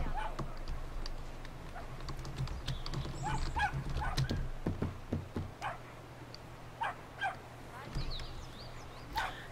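A dog barks and yips in the video game Brothers: A Tale of Two Sons, a run of short sharp yaps scattered over a low, steady game ambience, moderately close, with some hoof-like clatter mixed in.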